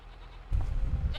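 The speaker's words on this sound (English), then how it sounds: "Our goats are happy. Our sheep should be plenty happy." Goats and sheep bleat in Farming Simulator 25, a short, loud burst of farm-animal calls over a steady game ambience with no talk.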